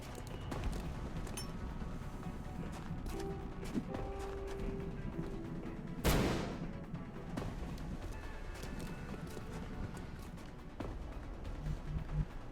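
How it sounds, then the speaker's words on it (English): A flashbang grenade goes off in XCOM: Enemy Within (Long War mod), one sharp broadband burst midway through, set against a busy bed of game music and ambient battle noise. "So let's throw the flashbang right there."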